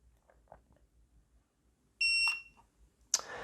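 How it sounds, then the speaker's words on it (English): A single sharp electronic beep from a TireView tire pressure monitor as its set button is held, in a quiet room, followed by a brief click. "holding the set button until it beeps"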